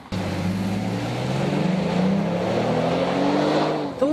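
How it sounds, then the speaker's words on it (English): Inside a Lincoln MKX SUV with a 3.7-liter V6 on the move: steady wind rush and tire hiss over a low road drone, with engine pitch slowly climbing as it accelerates, continuous and fairly loud. "you do get some wind noise around the mirrors and a little bit of tire hiss and road noise come through"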